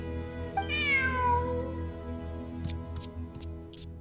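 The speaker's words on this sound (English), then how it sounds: "Who's a good kitty?" A single clear cat meow from the video game Genshin Impact, rising then falling in pitch, followed by a few faint sharp clicks.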